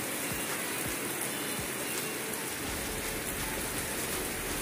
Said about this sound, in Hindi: इतनी तेज बारिश है कि